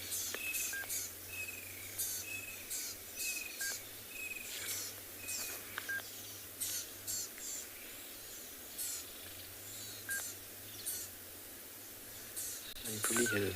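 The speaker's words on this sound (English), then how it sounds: "You can hear the birds." Birds chirp intermittently in the distance on a sunset safari at Tswalu, with short repeated calls scattered over a steady outdoor hum.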